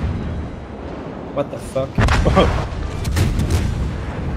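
Naval guns firing from warships in World of Warships, heavy booming salvos around the middle and end of the clip, under excited voices talking and swearing.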